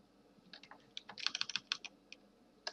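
Typing on a computer keyboard while entering commands during an Android OS install on a PC: a quiet, irregular burst of close key presses with a few isolated taps, no voices.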